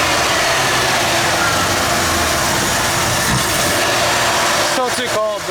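A cold Ford Bullnose truck engine idles on choke with a steady, broad rumble throughout, while a voice talks over it near the end.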